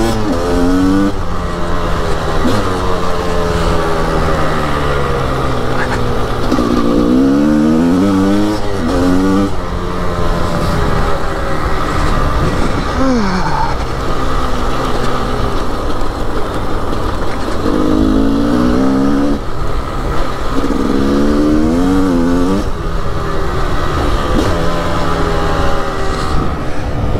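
A Gas Gas 300 two-stroke dirt bike is ridden up close. Its loud, raspy engine rises and falls repeatedly with revving, gear changes and throttle bursts, steady throughout with no speech.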